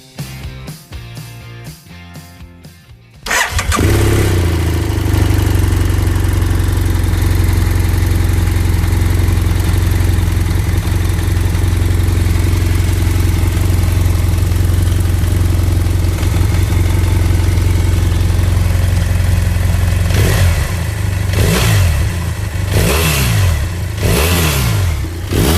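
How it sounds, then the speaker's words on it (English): A BMW parallel-twin motorcycle engine starts after a few seconds of clicking, then runs loud and steady close by, with several sharp throttle blips near the end. "That was clearly a parallel twin, not a boxer engine"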